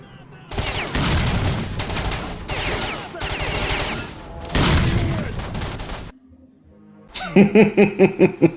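Rapid bursts of gunfire in S.T.A.L.K.E.R.: Shadow of Chernobyl crackle in long volleys, loud and close, broken by a short lull before sharper repeated shots.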